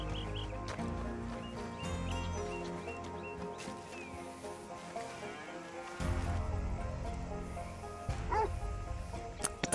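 A dog barking and yipping amid busy background noise and tones, with short repeated barks and a whimpering cry near the end.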